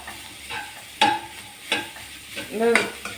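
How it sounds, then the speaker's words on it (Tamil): Elanji filling is stirred with sugar in a pan, making several short scraping and tapping bursts from a utensil, spaced irregularly over a faint background sizzle. "ஆட் பண்ணி நமக்கு வந்து நல்லா மிக்ஸ் பண்ணி விடலாம்"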